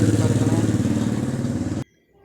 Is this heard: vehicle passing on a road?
yes